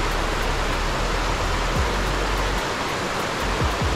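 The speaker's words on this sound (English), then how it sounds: "Cool waterfall right there." A waterfall roars as a steady, dense rush of falling water, loud and constant throughout with no other sounds standing out.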